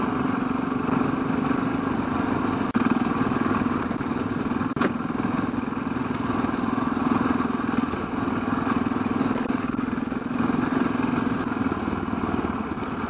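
A big adventure motorcycle rides off-road on a dirt track in Poland, a steady engine drone with wind rumble, continuous and close, with a single sharp tick partway through.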